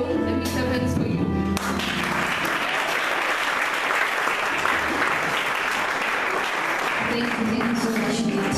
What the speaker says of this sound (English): So now we clap hands for these people.